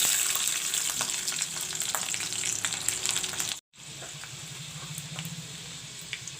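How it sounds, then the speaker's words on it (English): Garlic and green chilies frying in hot oil for saag: a loud, continuous crackling sizzle with stirring, briefly cutting out before resuming just as steadily, with no voices. "The oil is turned hot. Now I'll put this garlic and the green chilies in."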